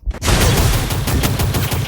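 Rapid gunfire in a video game shooter, a dense burst of repeated shots starting abruptly and running loud and continuous to the end.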